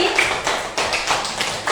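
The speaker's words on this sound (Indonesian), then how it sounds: "tepuk tangan untuk kita semua hari ini." A classroom breaks into applause, a short burst of dense, fairly loud clapping from many hands, close by.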